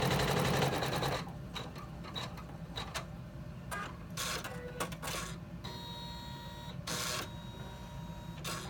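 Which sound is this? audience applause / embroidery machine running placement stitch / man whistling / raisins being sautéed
embroidery machine running placement stitch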